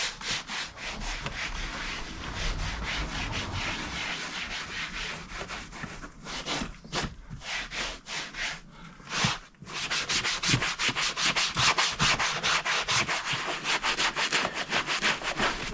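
Continuous scrubbing of a Fiat Coupé car seat worked with foaming cleaner, a steady close brushing rasp with rhythmic back-and-forth strokes, a brief pause near the middle before the rubbing resumes.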